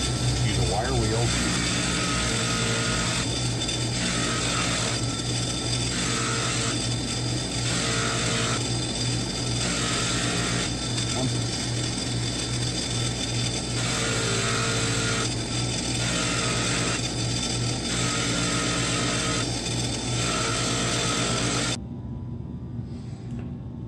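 A wire wheel grinding glue off a Ford Super Duty door, with a loud, steady, close whine that carries on unbroken and pulses slightly, then stops abruptly near the end.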